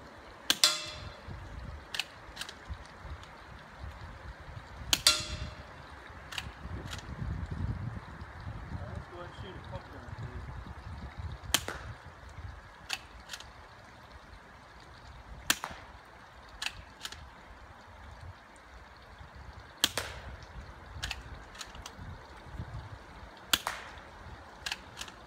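Shots from a small firearm that sounds about like a pellet gun, some striking a steel target: sharp, sparse cracks spaced several seconds apart, each alone and fairly distinct over low outdoor background rumble.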